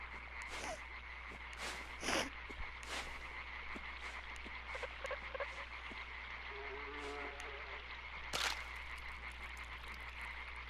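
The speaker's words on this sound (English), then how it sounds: "These frogs are getting on my nerves." Frogs croak in the video game LIMBO, short rhythmic croaks repeating over a steady dark ambient hum, with a couple of louder sharp bursts standing out.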